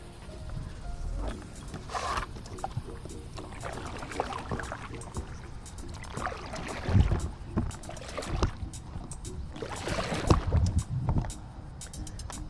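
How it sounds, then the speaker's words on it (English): Stand-up paddleboard paddled on the Taehwa River in Ulsan, South Korea: repeated close paddle strokes and water splashes with louder dips around the middle and end, over steady wind and water ambience, no talking. "I gotta start paddling because I'm moving for this little island here."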